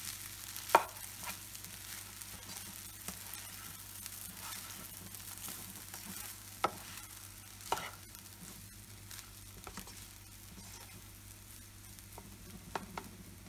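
Egg fried rice is stirred quickly in a pan over high heat, a faint steady sizzle punctuated by scattered sharp clicks and scrapes of the spatula against the pan.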